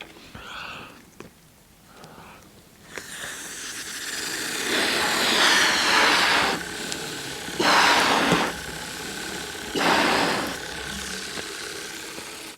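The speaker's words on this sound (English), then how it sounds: "This is how our engine works." A small model engine driven by air from an inflated balloon runs with a rapid mechanical ratcheting clatter, starting after a quiet moment and surging louder in several bursts, close by.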